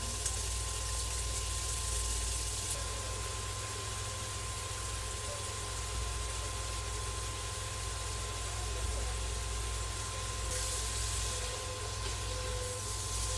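Eggplant frying in a pan, a steady broad sizzle and hiss that continues unbroken and fairly close, with a faint hum underneath.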